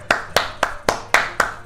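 Seven crisp hand claps ring out close by in an even, steady rhythm, each one sharp and distinct with no talking over them.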